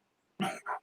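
A dog gives two quick barks close by, a sharp first yap followed by a shorter second one, against an otherwise quiet room.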